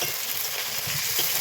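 Chicken frying with green chili, ginger and garlic in a pan, a steady close, loud bright sizzle with no pauses, no voices.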